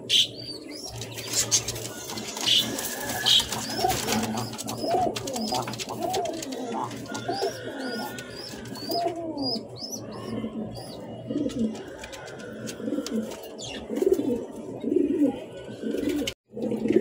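Lakha running pigeons in a loft coo repeatedly in low throaty rolls, with overlapping coos from nearby birds, occasional chirps and a brief wing flutter, close and fairly loud throughout.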